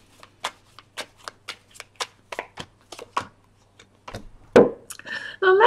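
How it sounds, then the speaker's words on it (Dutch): A tarot deck is shuffled by hand in a quick run of crisp riffling flicks, followed by a brief louder rustle and a short muffled handling noise at the end. "Ik zal een kaarten schudden om te kijken wat deze week voor jou gaat brengen"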